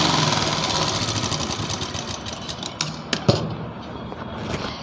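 A sewing machine runs a seam on a Nayra suit, a fast rhythmic mechanical chatter that starts strong and then breaks into a few short bursts and clicks near the end.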